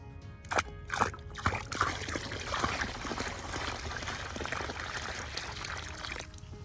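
Water trickles and splashes steadily from a watering source onto dry potted hardy mums as they are planted, a continuous close pour with a few louder splashes near the start.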